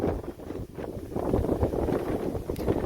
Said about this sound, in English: I do not want to put it up with this big gust going right now.